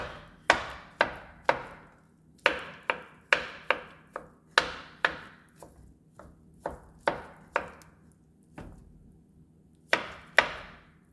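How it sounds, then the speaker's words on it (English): A knife dices mushrooms finely on a cutting board in a quick run of sharp, close chopping taps, with short pauses between small bursts and no talking. "So they have to be diced very finely."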